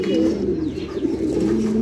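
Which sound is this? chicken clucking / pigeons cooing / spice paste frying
pigeons cooing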